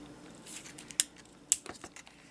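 Scissors snip the ends off a clear plastic tab, two sharp crisp cuts close to the mic followed by a few smaller clicks and rustles of the plastic, with no talking.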